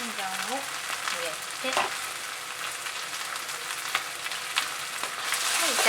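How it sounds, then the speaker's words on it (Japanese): Shrimp and bamboo shoots stir-fried with doubanjiang sizzle steadily in a hot pan, a constant crackling hiss broken by scraping stirs. A voice speaks briefly at the start. "炒め合わせます"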